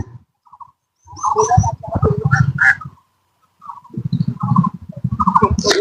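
Many ducks on a riverside duck farm quack in loud bursts of harsh, repeated calls, several birds together, with a short quiet gap between two noisy stretches.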